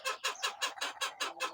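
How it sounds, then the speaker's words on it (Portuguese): Chickens clucking close by, a rapid run of about eight sharp, evenly spaced clucks, loud and clear with no talking. "Tão barulhenta essas galinhas hoje"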